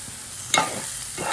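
Bitter gourd pieces fry in oil with chili powder, giving a soft steady sizzle. A spoon stirs and scrapes the pan twice, with a sharp clink near the middle. No one speaks.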